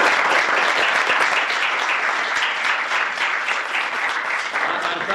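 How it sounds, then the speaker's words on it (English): An audience at a university peace-building talk on Sri Lanka claps for two speakers, a dense, steady burst of applause filling the room for several seconds. "Let's give a round of applause to the two speakers."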